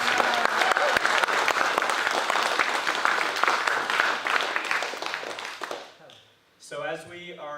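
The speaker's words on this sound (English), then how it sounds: "I just want to give another round of applause to Ayla" A crowd at a fringe festival opening ceremony gives a round of applause, dense and loud clapping that fades away toward the end, followed by a voice starting to talk.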